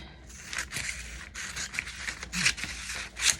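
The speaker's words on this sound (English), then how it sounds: "I'm just going to use scissors here" Scissors snip through fabric scrap strips in a run of short, close cutting strokes with crisp rasping bursts, no talking over them.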